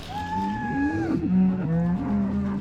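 A cow lowing nearby, a drawn-out moo that rises and wavers before trailing off, heard alone.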